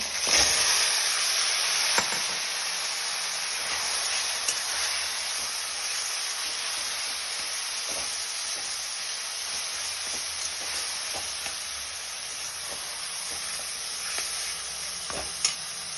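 Taro greens and lentil dumplings frying in a pan for a taro-leaf ghonto, with a steady close sizzle and occasional scraping stirs throughout.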